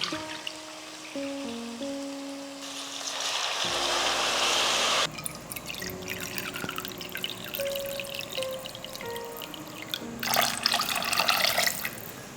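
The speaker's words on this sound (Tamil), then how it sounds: "ரெண்டரை கப்பு தண்ணி சேர்த்துக்கலாம்" Water runs steadily and splashes into a cooking pan, a broad hiss that shifts in pitch as the vessel fills, with clinks near the start and end.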